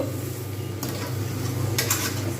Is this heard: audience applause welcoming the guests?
no